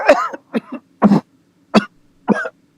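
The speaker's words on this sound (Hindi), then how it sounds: "बेटा तुम खांस क्यों रहे हो?" A man coughs five times in separate bursts, loud and close, with brief quiet gaps between each.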